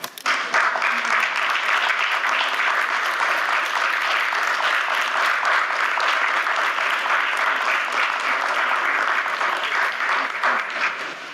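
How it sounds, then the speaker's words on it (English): Sustained round of applause from family members, friends and attendees at a Little Rock city board of directors meeting, loud and dense clapping holding steady for about eleven seconds before tapering slightly at the end. "can all the family members and friends please stand so we can give you all a round of applause?"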